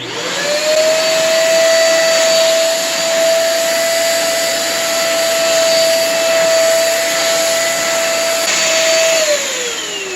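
Xiaomi Deerma DX700 corded vacuum cleaner runs loud and close as it sucks up snack crumbs, a steady high motor whine that holds from spin-up until it winds down near the end.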